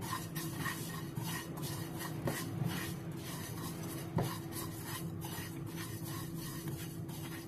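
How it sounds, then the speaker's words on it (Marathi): Sesame seeds with half a spoon of oil being roasted in a pan, with a steady scraping and rubbing of a spatula stirring against the metal and a few light clinks over a low background hum. "त्याच्यामध्ये मी अर्धा चमचा तेल घालते आणि अजून पुढे 1 मिनिटं हे तीळ भाजून घेऊया"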